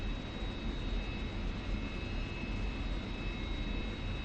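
An F-86F Sabre jet engine at takeoff in the DCS flight simulator, a loud, steady roar with a thin high whine held throughout, no voices.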